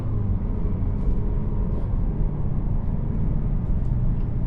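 A 2024 Mazda 3 sedan cruises along, giving a steady low road and engine rumble from inside the cabin, even and continuous without pauses.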